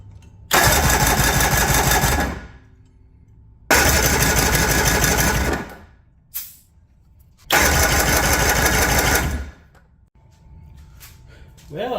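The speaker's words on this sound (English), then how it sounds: "That's an ugly sounding starter." Starter on an Evinrude 115 HP outboard motor, which leaks fuel and won't run without choke, cranks loudly in three long bursts of about two seconds each with short pauses between, harsh and grinding, close to the mic.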